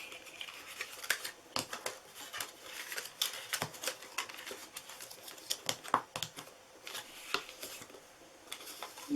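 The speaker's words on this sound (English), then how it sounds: "Sharpen all these score marks." Score marks are sharpened on a paper tea box with a tool, making close, quick scratchy scraping and rapid tapping strokes that run steadily throughout at a soft level.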